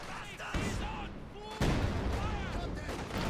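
A Ziska artillery barrage in a strategy video game lands as heavy booms, with a big impact midway and continuing rumbling blasts beneath a commentator's steady talk.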